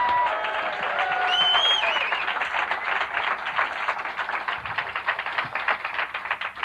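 Sustained audience applause and cheering at a comedy club fills the room for a comedian's introduction, steady dense clapping with some whoops and crowd noise, gradually thinning toward the end.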